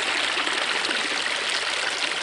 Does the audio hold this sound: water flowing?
yes